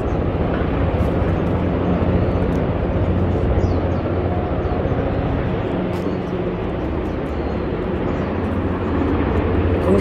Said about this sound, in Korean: 꼭대기로 지금 비행기가 뭐 실어 나르는 것 같아요.